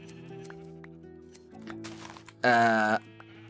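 A sheep in Minecraft lets out a single loud, short bleat partway through, standing out over quieter game music and background tones, with a brief spoken word nearby.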